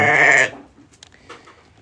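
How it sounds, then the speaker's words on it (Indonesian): A sheep on a farm gives a loud, close bleat lasting about half a second at feeding time with silage, followed by faint rustling and quiet shuffling. "Ini teman-teman domba yang kita pelihara. Ini dikasih silase."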